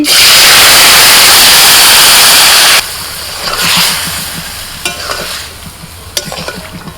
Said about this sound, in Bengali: ফোড়ন হয়ে গেছে শাক দিয়ে দিচ্ছি